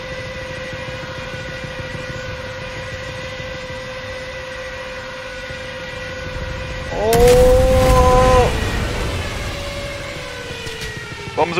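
Junkers Ju-87 Stuka dive sirens wail loudly in a Battle of Britain flight game, a steady tone under engine noise suddenly swelling into a harsh roaring siren blast, with a brief shout from a player.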